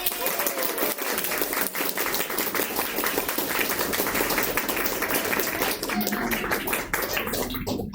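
A room full of people at a Toastmasters club meeting, standing to give a round of applause: loud, continuous clapping from many hands close by, thinning and growing more scattered toward the end.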